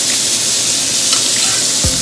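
Steak searing in a pan while hot juices are spooned over it, a loud steady close sizzle with a brief thump near the end.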